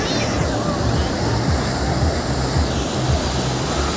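Sea waves breaking and rushing up the shore at Baga Beach, Goa, a loud continuous roar of surf mixed with heavy wind buffeting the microphone, with no clear talk.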